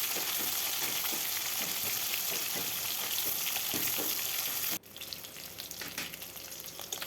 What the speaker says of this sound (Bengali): এইভাবে ভালোভাবে উল্টে পাল্টে ভেজে নেব।